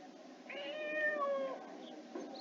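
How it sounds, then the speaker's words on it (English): A grey pet cat gives a single clear, drawn-out meow that rises and falls, fairly faint and alone, followed by a short softer chirp. "She has got a pet. It is a cat."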